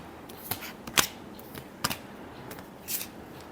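Tarot cards shuffled by hand, a few quick crisp riffles and flicks of the deck close by, separated by short pauses in a quiet room.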